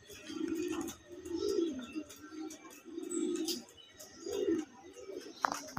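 Pigeons cooing at a pigeon farm in Shailkupa, Jhenaidah, with several low, rolling coos repeating in steady bursts, fairly close, and faint chirps and rustles in the background.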